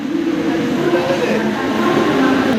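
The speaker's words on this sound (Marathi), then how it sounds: "तर मित्रांनो, ट्रेन आली." A train pulls into a Mumbai station with a loud, steady rumble and rolling rail noise close by, voices mixed in beneath.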